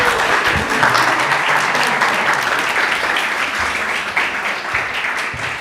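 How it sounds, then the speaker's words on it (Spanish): Sustained applause from a crowd at an Afro-Caribbean summit, steady and full throughout, with a few voices faintly mixed in. "Yo quiero pedir otro aplauso para Angelisa"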